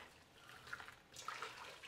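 Water is poured from a container into a pot of beef curry to make stock, a quiet splashing trickle that rises in the second half and goes on steadily.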